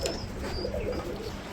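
Pigeons coo softly and steadily at close range, with low throaty calls carrying over a continuous background murmur and a few faint higher chirps.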